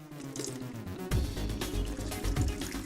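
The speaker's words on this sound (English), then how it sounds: "What they're doing here is actually a really good tech tip, which is draining the water out of the block" Water drains from an engine block drain plug, splashing and trickling steadily close by as the flow strengthens after a moment, with no voices.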